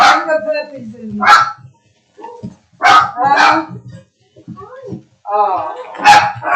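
Puppies bark and yip indoors in short, close, loud bursts, mixed with people talking.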